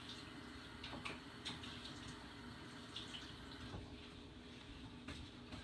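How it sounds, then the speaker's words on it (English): A kitchen tap runs steadily into a sink during handwashing, a faint continuous hiss of water with small splashes and clinks. "I'm gonna wash my hands."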